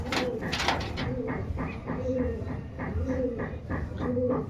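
A pigeon being held by hand while treated for pox, giving repeated soft rhythmic coos about once a second, close by, with a person talking over it.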